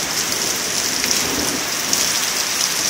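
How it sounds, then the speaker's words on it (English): Steady monsoon rain pours down, a dense, even hiss of drops striking surfaces close by, continuous with no pauses and no voices over it. "Just rain now, Brad."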